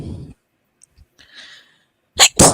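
After a quiet pause, a person lets out a pair of quick, sharp sneezes close to the recording, sudden loud bursts at the very end.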